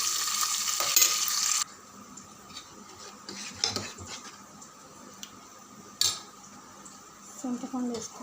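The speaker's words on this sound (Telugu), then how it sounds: "ఉల్లిగడ్డలు, పచ్చిమిరపకాయలు వేసుకోవాలి. కరివేపాకు, బాగా పచ్చివాసన పోయేదాకా మగ్గించాలి." Onions, green chillies and curry leaves frying in a pan, a loud sizzle at the start that drops to a low, steady fry, broken by a few clinks and stirring scrapes of a utensil against the pan.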